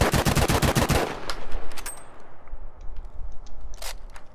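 Kar98 bolt-action rifle shots fire in the Battlefield V shooting range, a quick loud volley at the start followed by quieter mechanical clicks and a lone later shot.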